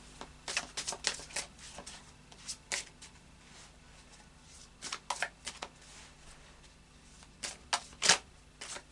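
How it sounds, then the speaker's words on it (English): Anarchy Tarot deck being shuffled by hand, soft papery riffles and flicks arriving in short bursts with quiet gaps between, close and intimate, no talking. "And then a final shuffle of the Anarchy Tarot."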